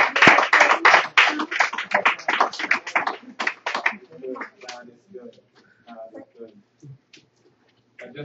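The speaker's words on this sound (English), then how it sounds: "Give the children a round of applause." Clapping for children at a church youth empowerment service, a dense burst of many hands that thins to scattered claps and fades out after about four seconds, with voices talking underneath as it dies away.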